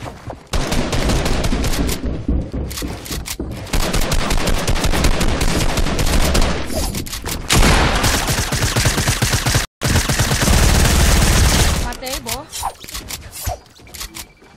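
Rapid bursts of Fortnite gunfire crackle almost continuously, loud and dense, with a brief gap near the end and faint voices mixed in.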